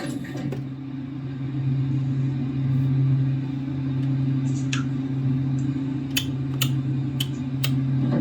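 A Canadian electric traction elevator motor in the machine room of the Centreville elevators runs with a steady low hum, while sharp relay clicks and ticks pop intermittently over it.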